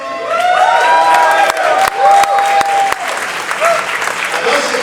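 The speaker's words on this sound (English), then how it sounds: "are the kind of applause I'm talking about" Audience applause fills an evening awards gathering at the NGPA Winter Warm-up, steady and loud throughout with scattered claps standing out and a few voices calling over it.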